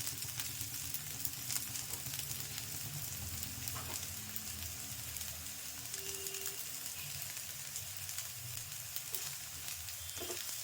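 Vegetable adai batter cooks on a hot pan with a steady, faint sizzle that holds evenly throughout, broken only by a few small clicks and scrapes.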